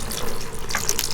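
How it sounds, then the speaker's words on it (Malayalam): Water poured into a container to sprout garlic, a steady splashing trickle that runs continuously and close by for the whole moment with no talk. "ഞാൻ വെള്ളം ഒഴിച്ച് കാണിച്ചു തരാം"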